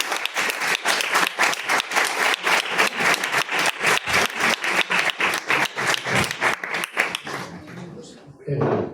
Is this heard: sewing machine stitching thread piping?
no